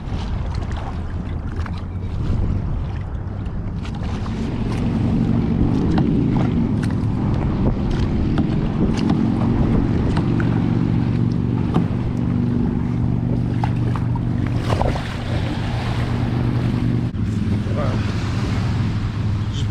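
A small 10-foot kayak moves across San Diego Bay while trolling back in, with continuous wind buffeting, water sloshing and paddle or hull noise, loud and close, and brief bumps later on.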